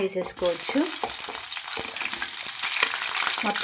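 Chopped vegetables, including tomato, green chillies, ivy gourd and brinjal pieces, hit hot oil with a loud sizzle and clattering stirs, and a faint voice can be heard near the start.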